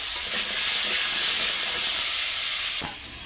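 Potatoes washed and coated with turmeric and salt fry in a pan with a steady, close hiss and sizzle that runs unbroken, easing slightly near the end, with no voices.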